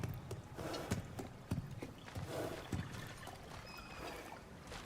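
A Kelpie horse in God of War Ragnarok steps around with soft, irregular hoof clops under a faint, watery ambience. The footfalls are quiet and unhurried, with a few sharper thuds.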